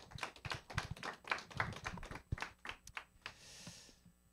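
A small audience at a morning book talk claps: a brisk, close patter of individual hand claps that thins out and fades after a few seconds.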